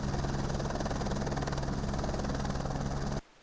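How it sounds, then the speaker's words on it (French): A military helicopter taking off, its rotor producing a loud steady thudding chop with engine whine, continuous and close until it cuts off abruptly near the end. "Dame Kone lance l'hélicoptère dans les airs"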